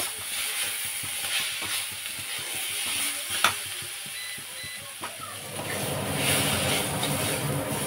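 Salted food being stirred in a frying pan, a steady broadband sizzle with scattered scraping clicks from the spoon, the frying hiss swelling louder toward the end.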